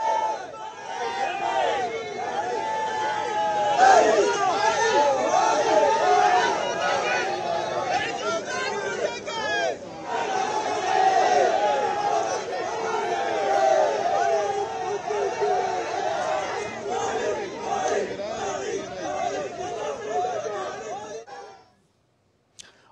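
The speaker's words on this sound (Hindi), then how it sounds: "पीएम के अभिनंदन के लिए सड़कों पर भारी भीड़ उमड़ी।" A large crowd gathered along the streets to welcome a prime minister, a steady dense babble of many voices with scattered calls, continuous and moderately loud throughout before cutting off at the end.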